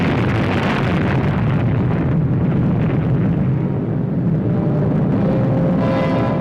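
An atom bomb explosion in old archival footage, heard as a sustained, loud, rumbling roar of blast and wind-like noise that fills the whole stretch without easing.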